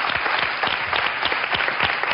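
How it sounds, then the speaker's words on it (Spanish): Applause from a live audience during a Spanish radio or TV broadcast in Andalucía, dense continuous clapping with a few sharper claps standing out, steady and fairly loud throughout. "Con este aplauso de todo"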